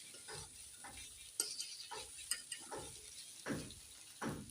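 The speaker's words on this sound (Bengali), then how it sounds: "এভাবে নাড়বো যেন ভাজিটা নিচে লেগে না যায়" A spatula stirs a banana flower and egg fry in a pan, making a series of light, rhythmic ticking scrapes against the metal over a soft frying sizzle, close and quiet, with no talking.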